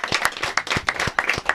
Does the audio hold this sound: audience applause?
yes